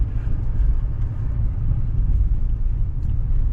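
Chevrolet Silverado 3500HD Duramax dually rolling over a washboard road, a steady close low rumble of engine and road noise with constant choppy vibration throughout.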